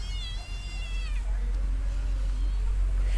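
A cat gives a drawn-out, wavering meow up close in the first second, then the sound settles into steady low background noise.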